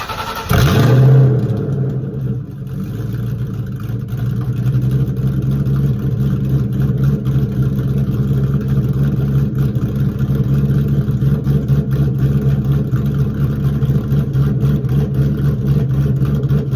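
A 2001 Ford Mustang GT V8 cranks and fires, then settles into a loud, steady, rumbling high idle close to the microphone with slight revs, with no talking.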